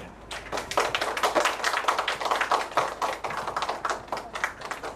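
Audience applause at a university trauma forum as a lecturer is welcomed, dense and close with many sharp individual claps in a lively, uneven rhythm, swelling and holding strong throughout.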